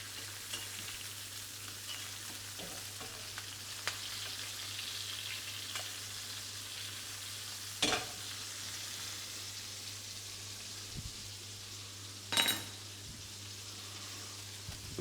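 Steak sizzling steadily in a pan while being basted with butter, a constant close frying hiss with a low hum beneath and a couple of sharper spatters or utensil clinks; no talking.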